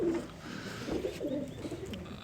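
Pigeons in a loft coo in soft, low, repeated throaty calls, close by and fairly quiet.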